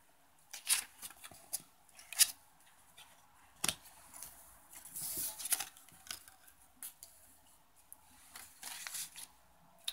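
Tarot cards being shuffled and handled by hand at a reading table, giving quiet, scattered riffs, slaps and rustles spread irregularly across the stretch with no talking.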